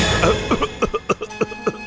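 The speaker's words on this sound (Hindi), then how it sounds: "उन्हें बहुत खांसी है" A rapid series of short, harsh coughs, about eight in under two seconds, close and fairly loud.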